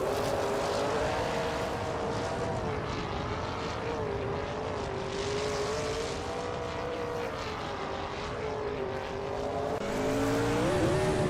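Race cars roar off the starting line on the Mario Track in a racing video game, with a 2017 Ford Fusion leading the pack; loud, sustained engine drone with rising and falling pitch lines throughout.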